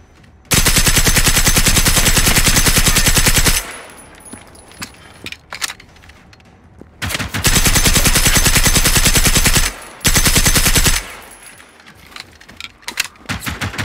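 Submachine gun fire in the video game Generation Zero: loud, sustained automatic bursts, a long burst of about three seconds followed later by two more long bursts, with quieter clatter and gaps between them.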